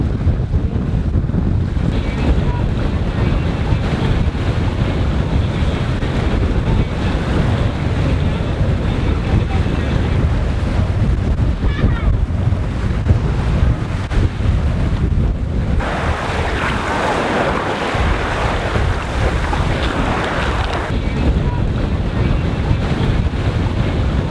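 Steady wind rushes across the microphone aboard a sailboat in a breeze of about 10 knots off the Italian Riviera, with water and hull noise rising and falling throughout and no talking.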